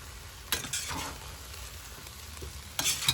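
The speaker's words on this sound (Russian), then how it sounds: "Перемешиваю." Shashlik meat being stirred in a kazan, a few close scraping strokes over a constant sizzle, with a louder burst of scraping at the end and no voices.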